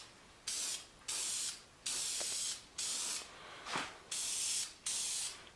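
A spray gun hisses in seven sharp bursts of about half a second to a second each as paint goes onto metal bed frame parts, evenly paced with brief pauses, close up and with no voices.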